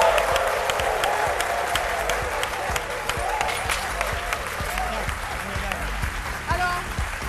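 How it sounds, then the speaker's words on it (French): A studio audience on an Ivorian midday TV show applauds loudly as a guest joins the set, a continuous dense clapping with low music or rumble beneath and scattered voices. "M. Kone Oumar Bassa Koulba, que je vous demande d'applaudir très fort"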